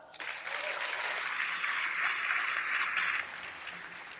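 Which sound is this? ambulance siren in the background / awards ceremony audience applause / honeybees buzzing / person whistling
awards ceremony audience applause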